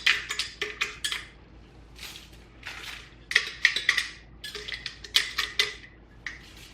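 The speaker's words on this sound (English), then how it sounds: "So with a butter knife here." Butter knife scraping and spreading dried herb salt across a metal baking sheet, a run of short, close, crisp scrapes in uneven bursts with brief pauses between, no talking.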